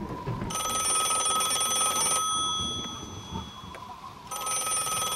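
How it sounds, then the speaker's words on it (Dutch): An old-style telephone bell rings in two bursts of loud, rattling trills separated by a quieter gap, with a low background murmur and no speech. "Telefoon."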